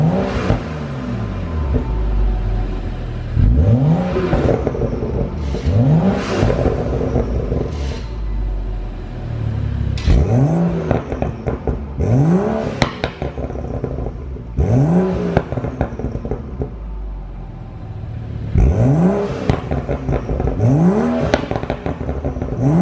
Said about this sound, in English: I'm gonna give it a few revs, and I'll go ahead and throw it in Sport, give it a few revs